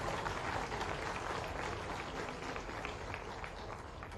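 At a university convocation ceremony in Mhow, a large audience claps together in a sustained, even burst of applause that fills the hall for several seconds.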